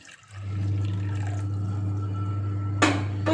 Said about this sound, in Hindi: अब इसमें हम दूसरा पानी ऐड कर देंगे